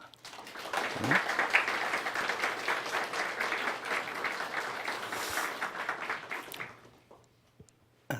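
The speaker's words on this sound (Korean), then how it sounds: "귀한 분들 위해 박수로" Applause from a church congregation during a Sunday worship service fills the room, a dense, steady wash of many hands clapping for about seven seconds before fading out, with a faint voice underneath.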